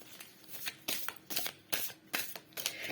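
Tarot cards being shuffled and drawn, soft papery riffles and slaps in about six short bursts, quiet and close with no talk over them.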